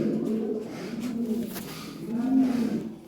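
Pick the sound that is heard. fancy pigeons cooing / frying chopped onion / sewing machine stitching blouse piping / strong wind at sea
fancy pigeons cooing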